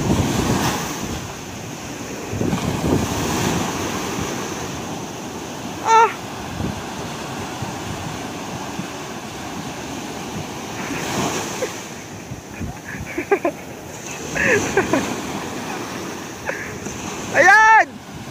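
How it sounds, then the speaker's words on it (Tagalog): Ocean waves surge and wash along the shore at Bucana, heavy and loud with gusty wind buffeting the microphone, while voices shout out in short bursts now and then. "Ayan pa, alon."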